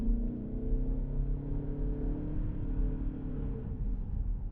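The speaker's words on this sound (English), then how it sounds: "you still hear a roar from the engine" A 2025 Mazda CX-50 Hybrid engine roars steadily from inside the cabin as the crossover accelerates, a low, even hum with rising tonal drone and no voices.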